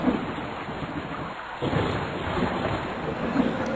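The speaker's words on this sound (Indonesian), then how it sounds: "Lalu turunlah hujan tersebut sampai ke bumi." Steady heavy rainfall with a low rumble of thunder, loud and close, continuous throughout.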